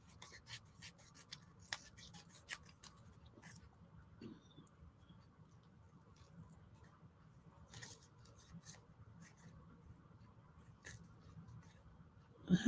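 Scissors snip out paper collage images in sparse, close little clicks and snaps scattered over a quiet background, with soft paper rustling between cuts.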